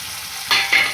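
Onion and tomato sautéing with rock salt in a pan for ridge gourd gravy, a steady sizzle under two quick scraping stirs close by.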